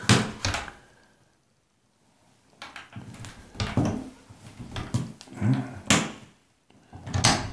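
A door lock being tried on a small house, then the door opening and closing: a run of close clunks, rattles and knocks with a quiet stretch between bursts.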